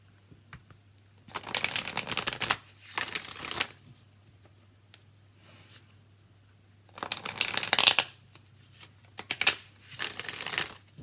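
Modern Love tarot deck being shuffled by hand in several bursts of dense riffling and flapping card noise, separated by near-silent pauses over a faint steady hum; no voices.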